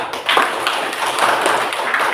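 A classroom of students clapping hands during a lesson on turning waste wood into a study desk, a short burst of brisk, close claps.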